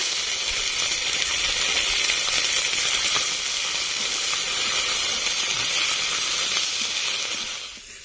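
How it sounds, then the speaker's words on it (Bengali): A paste of ground ginger and cumin fries in a pan for moong dal, giving a loud, continuous sizzle and hiss that holds steady and then fades out at the very end. "মশলাটা ভাজা হয়ে গেছে"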